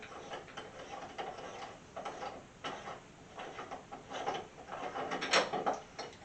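Decorative spacer pieces on a shower pipe are twisted off by hand, giving a close series of soft clicks, ticks and small scraping grinds in uneven bursts, quiet and with no talk.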